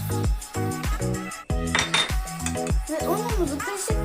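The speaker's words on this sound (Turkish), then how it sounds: "Ve güzelce karıştırıyoruz." Baklava batter stirred in a bowl, a spoon or whisk clinking and scraping rhythmically against the dish in quick repeated strokes, close and clear.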